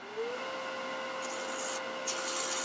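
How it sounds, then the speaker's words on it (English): Spindle gouge cutting a spinning blank on a wood lathe while turning a cremation urn, the material cutting messily; a steady motor hum runs under two brief scraping bursts of the tool biting the wood, fairly quiet. "I'm going to see if I can use a spindle gouge"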